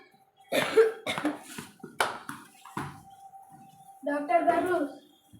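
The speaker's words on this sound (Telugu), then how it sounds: "డాక్టర్ గారు నాకు చాలా దగ్గుగా ఉంది." A person coughs several times in sharp bursts at a doctor's clinic, close and fairly loud, followed by a short stretch of voiced sound that may be speech.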